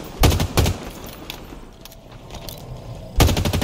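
Assault rifle gunfire in Halo Infinite, two short loud bursts at the start and another at the end, with quieter game ambience between them.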